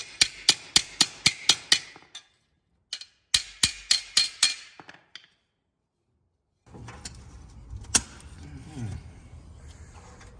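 Sharp, rapid hammer strikes ring out in two quick bursts of about eight blows each while a 2022 Ford Bronco is being rebuilt, followed by quieter workshop clatter and one louder knock.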